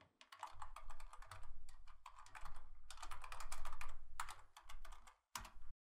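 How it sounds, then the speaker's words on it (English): Rapid clicking of keys on a computer keyboard in bursts, close and crisp, with brief pauses between runs of typing. "Or you could come in here and just start typing."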